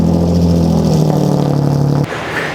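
A car with a straight-back exhaust and no resonator revs loudly up close in a garage, a sustained droning rev that cuts off sharply near the end, no talking.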